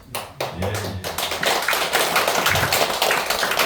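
An audience applauds at a church meeting in a Korean church hall, a dense, sustained clapping that builds and holds steady for a few seconds.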